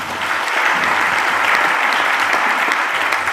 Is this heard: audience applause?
yes